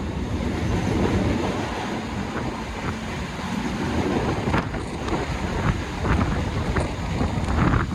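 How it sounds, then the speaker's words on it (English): A continuous heavy rumble of a train crossing a river bridge with rattling wagons, mixed with wind buffeting the microphone. "the train crosses the river once again undetectedly"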